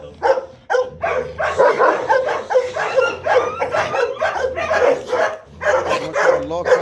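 A large dog on a farm still under construction barks in short, repeated bursts through the whole stretch, close and loud, while people talk over it.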